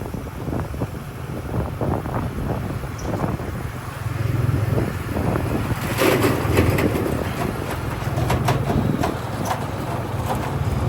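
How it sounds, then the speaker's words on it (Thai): Dry morning wind blows steadily outdoors in the sunshine, a broad rushing buffet across the microphone that swells about midway, with no voices. "มีเช้านี้ลมพัดแห้งๆ"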